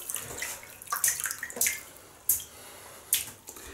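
Tap water runs over a shaving soap as it is wetted, hissy splashing bursts that come and go in several short pulses, with drips and quiet gaps between the louder rushes.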